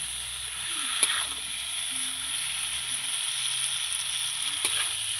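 Spices cook down with potato and elephant foot yam in a pan, giving a soft, even sizzle close by with two sharp spoon knocks against the pan, and no talking.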